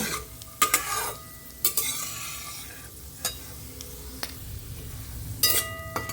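Ingredients for pumpkin halwa frying in a pan, a steady sizzle with a spoon stirring and scraping against the metal in repeated sharp clinks, close up with no talking.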